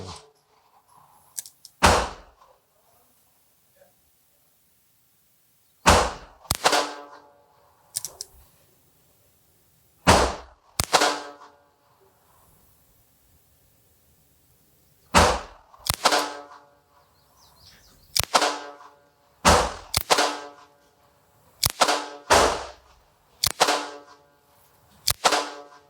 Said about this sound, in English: I will do the first 2 shots single action. The next 7 will be double action.